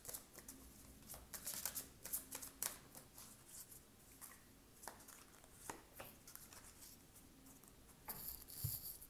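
Oracle cards being shuffled by hand for a wisdom reading, a run of soft, quiet riffling flutters and light slaps that come in uneven bursts, with no talk over them.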